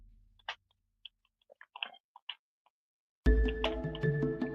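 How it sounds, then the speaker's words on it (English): Someone chewing a Twix candy bar close to the mic, a scatter of soft crunchy bites and mouth clicks before a louder burst of mixed background sound cuts in. "Let me know if you can hear me chewing."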